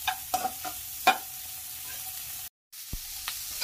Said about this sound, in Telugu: ఇందులోని పచ్చి వాసన వెళ్ళేంత వరకు వేగించుకుంటే బాగుంటుంది వెజిటేబుల్ మ్యాగీకి